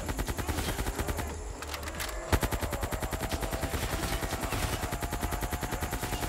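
An AK rifle in Call of Duty Zombies fires in a long run of rapid automatic shots, steady and rhythmic, near and fairly loud after a brief pause, with no speech.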